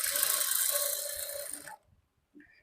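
A sewing machine stitches along marked lines on a maggam embroidery work blouse, running as a steady close mechanical whir for under two seconds before stopping, followed by a brief faint click.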